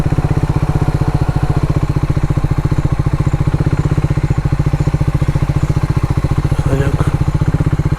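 A 100cc motorcycle idles on a forest road in Simlipal, near Sitakund Waterfall. The engine gives a close, loud, steady rapid putter with an even rhythm that holds for the whole stretch.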